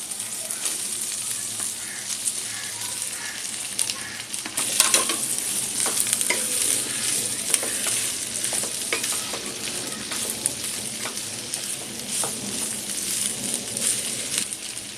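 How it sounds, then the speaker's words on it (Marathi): Potato filling for batata vada sizzles in a pan while being sautéed, with a steady soft frying hiss and frequent scrapes and clinks of a spoon stirring. "हे चांगलं आपण परतून 2 मिनिटं घेणार आहोत"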